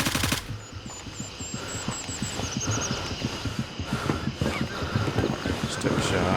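Gunfire in the military shooter game Gray Zone Warfare: a rapid string of sharp shots cracking throughout, with some bursts denser than others, set against a steady ambient bed.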